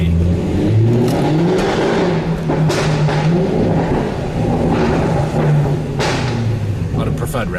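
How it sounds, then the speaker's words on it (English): A car engine idles and revs in low surging pulses, with loud wind-like rumble and people talking over it throughout. "can you just give it some revs"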